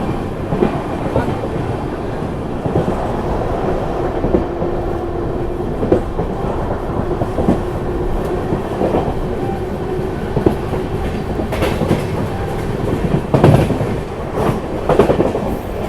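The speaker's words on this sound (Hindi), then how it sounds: "दोस्तों आपको एक ट्रेन दिख रही होगी, धीरे धीरे हमारे तरफ बढ़ते हुए आ रही है।" The Rajdhani Express, train 12423 from Dibrugarh, moving on Indian railway track in thick fog: a steady, loud rumble of wheels and carriages with faint clickety-clack and occasional metallic knocks, and no one talking.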